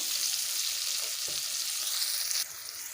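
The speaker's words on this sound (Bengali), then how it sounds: "লবণ হলুদ দিয়ে পটলের মধ্যে গাজরগুলোকে দিয়েও ভেজে নেবো" Pointed gourd and carrots with salt and turmeric fry in hot oil, giving a continuous close hiss and crackle that eases slightly near the end.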